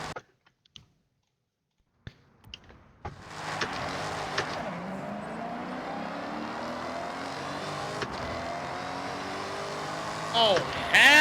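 A Dodge car idles and drives in a racing video game: a few sharp clicks over near silence, then a steady, fairly quiet engine drone that holds with slight rises and a brief louder burst near the end.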